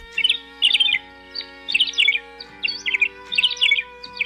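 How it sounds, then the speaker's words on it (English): A thick-billed longspur sings a run of quick, tinkling warbled phrases in repeated bursts, clear and close over a faint steady background hum. "It's the bird that is now known as the thick-billed longspur."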